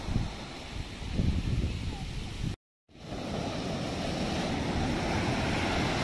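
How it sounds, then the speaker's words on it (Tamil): Rough, high sea surf breaking at Periyakadu Beach in Kanyakumari, a steady broadband roar of waves with wind buffeting the microphone, briefly cut out mid-way before the continuous crashing wash resumes. "அன்றைய தினம் கடல் சற்று சீற்றமாகவே காணப்பட்டது. அலைகள் உயரமாக மிக ஆபத்தாக தெரிந்தது."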